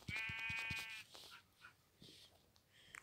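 Minecraft sheep give a few bleats on a sheep farm, with the first long wavering bleat loud and close and fainter bleats following amid quiet game sounds.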